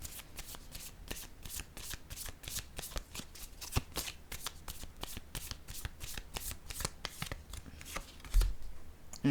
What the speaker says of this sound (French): Je vais piger une carte ici, par curiosité.